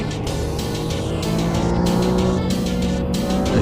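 Race car in a racing game passing a lapped car in traffic, a loud continuous engine roar with rising and falling pitch and some tire noise, close and sustained with no voices.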